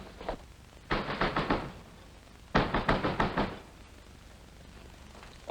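Two quick bursts of heavy pounding knocks on a door, about six blows each, with a pause between them, loud and close against a quiet background in a radio crime drama.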